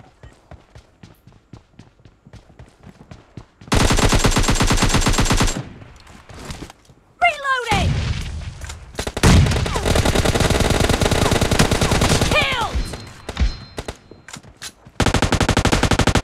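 Bursts of automatic gunfire from the mobile battle royale game BGMI, loud rapid volleys with pauses between them and single shots scattered through, with faint voices underneath.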